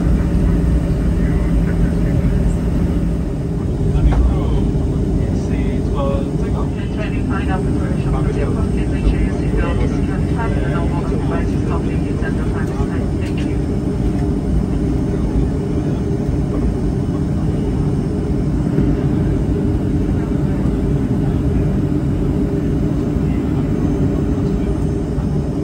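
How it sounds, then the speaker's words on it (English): A Boeing 737-300 airliner in flight on a Gombe to Abuja route, heard from inside the cabin as a loud, steady, unbroken roar of engine and air noise for the whole stretch. "today's aircraft's type is the Boeing 737-300 series"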